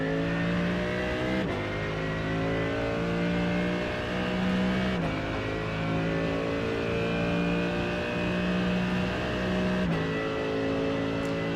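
A Mercedes GT3 race car engine at Suzuka in iRacing drones steadily and loudly, its pitch climbing through the revs with a few sharp gear shifts breaking the continuous tone.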